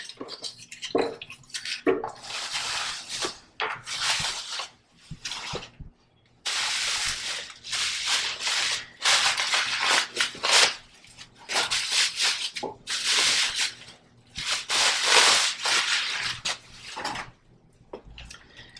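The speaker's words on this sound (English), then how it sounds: "So we'll slide this out of its packaging." A wooden garden trug basket kit slid out of its packaging, making close, loud scraping and rustling bursts separated by short pauses.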